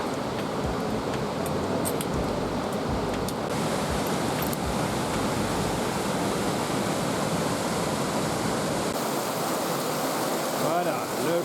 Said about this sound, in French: Là, on traverse le torrent et qui amène aux gorges de la Roche.